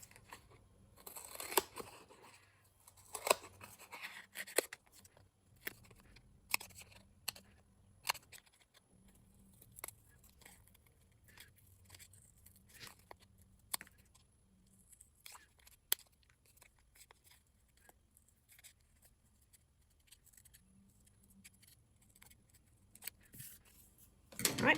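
Scissors snip repeatedly through texture stamp material at close range, quick irregular cuts with short pauses between, set against a quiet background.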